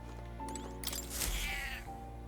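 A cat meows and caterwauls softly while being petted in the video game Metaphor: ReFantazio, with a drawn-out cry over a steady background music bed and no talking.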